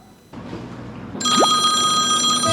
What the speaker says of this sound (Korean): 갑자기 전화가?